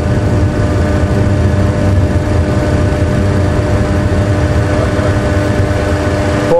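Aircraft engines at takeoff thrust roar steadily through a takeoff roll, a loud continuous rumble with a low tonal drone that holds level without a break.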